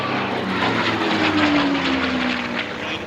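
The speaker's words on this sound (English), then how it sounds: "Final pass then from the Korean War veteran TF-51D" A Korean War veteran TF-51D Mustang makes a final low pass at an autumn air display at Duxford, its piston engine and propeller droning loud and close, with a falling pitch as it sweeps by.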